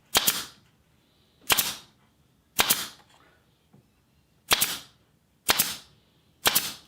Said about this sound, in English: I was pinning on with the pin gun